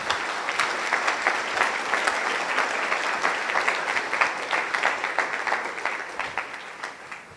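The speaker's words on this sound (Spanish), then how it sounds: "denle un aplauso al Rey, por favor" A church congregation applauds, sustained and loud, with individual claps popping out of the wash and a tapering toward the end.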